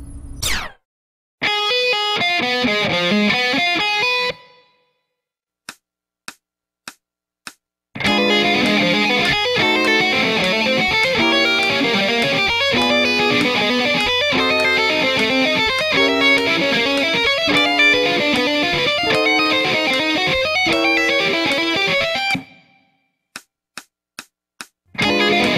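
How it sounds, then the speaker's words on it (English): Distorted electric guitar plays a lead break built from a repeating twelve-note pattern that climbs chromatically as the chords change, in long dense runs broken by a silent gap and a few sharp isolated stabs. "The second lead break is also a pattern of 12 notes, but it's a different pattern, and it also ascends chromatically as the chords change."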